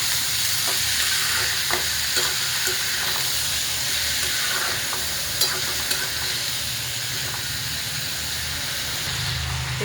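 Ivy gourd and potato fry in a pan with a continuous sizzling hiss, while a spoon stirs them and scrapes and clicks against the pan now and then.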